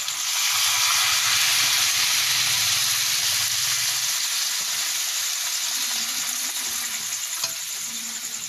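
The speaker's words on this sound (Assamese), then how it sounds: "এতিয়া মই ইয়াত গৰম পানী দিছোঁ" Hot water is poured into a sizzling pan of local chicken curry cooked over a wood-fired hearth, a loud, rushing hiss of steam and bubbling that settles slightly as it continues.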